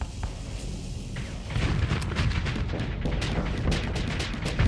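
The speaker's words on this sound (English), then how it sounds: "Missiles away." Ship-launched missiles fire during a Starsector space battle, heavy booming launches and rumbling blasts that thicken into a continuous, loud barrage with scattered sharp cracks.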